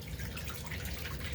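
Water runs steadily from a bathtub faucet spout with the diverter off, a soft continuous splashing rush at low pressure, faint and unbroken without any voices.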